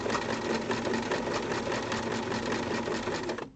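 A sewing machine stitches a buttonhole at a steady fast pace, a continuous close whirring hum with rapid needle ticking that runs evenly and then stops at the end.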